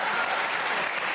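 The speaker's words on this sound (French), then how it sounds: "Ça s'applaudit s'il vous plaît." Dense, steady applause from a French television studio audience on a Sunday variety show, continuous and fairly loud throughout with no talk over it.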